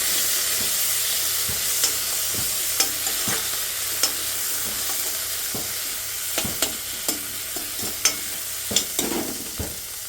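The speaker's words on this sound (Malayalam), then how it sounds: "നന്നായിട്ടൊന്ന് ഇളക്കി കൊടുക്കാം." Chopped tomato sizzling in a hot pan while being stirred, a steady frying hiss underneath repeated scraping stir strokes that come irregularly, growing busier toward the end, with no talking.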